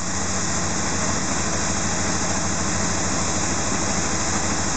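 A car engine idles steadily and loudly throughout, warming up during a fuel pressure regulator vacuum test, a constant droning hum with no other sounds.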